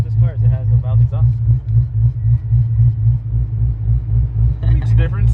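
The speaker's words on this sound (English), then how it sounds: "The best thing about this car is it has a valve exhaust." A Corvette's 7.0-litre V8 idles through its valved exhaust with a deep, loud, pulsing rumble that stays steady throughout, while people talk over it.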